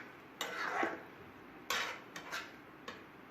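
Food colour is mixed into tutti frutti pieces, giving a few quiet, separate scraping strokes and light clinks of a spoon against a bowl, close by and with no talk.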